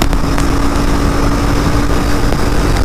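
Royal Enfield Interceptor 650 BS6 motorcycle held at top end in fourth gear, a loud continuous engine drone with steady hum and heavy wind rush throughout.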